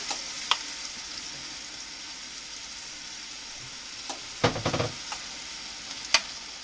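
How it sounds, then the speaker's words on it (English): Rabbit pieces fry with vegetables in a pan, a steady close hiss of sizzling broken by a few sharp clicks and a short cluster of clattering stirs. "And now I'm going to add my rabbit to our vegetables."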